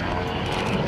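A small yellow comedy-act airplane flying at an airshow, its propeller engine drone steady and fairly loud across the moment with no talk over it.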